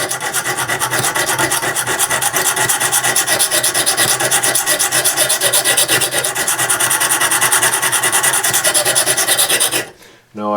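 Blade bevel of a knife stroked over a stone of a Lansky sharpening system, a continuous close rasping scrape in quick repeated passes, alone, stopping abruptly near the end.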